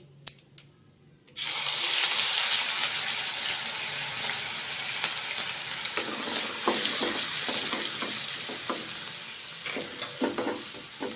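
Ground ginger, chili and garlic paste hits a hot pan with a loud, sudden sizzle after a quiet start, then fries steadily with intermittent stirring scrapes throughout.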